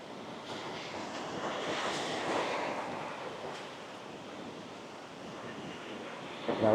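Ocean surf rolling onto Sao Beach on Phu Quoc Island, a steady broadband wash of breaking waves with wind noise on the microphone, swelling slightly in the first half and staying constant throughout.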